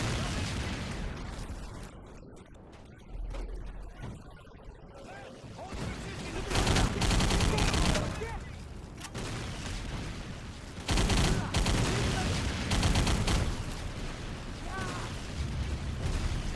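Video game gunfire while shooting enemies in a mission, loud sustained bursts of shots and blasts in several waves, dense and close, with a voice talking over parts of it.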